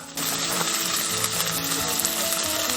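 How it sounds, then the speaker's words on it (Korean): Thick Korean hanwoo beef tenderloin sizzles loudly in a hot preheated pan, starting suddenly and holding a dense, steady crackle throughout. "한우 툭불 안심을 팬에 올려놓고 아름다운 소리를 감상해본다"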